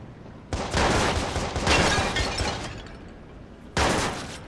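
Loud, close bursts of rapid automatic gunfire in the video game Watch Dogs, one long sustained volley of sharp cracks followed by a brief pause, then another burst.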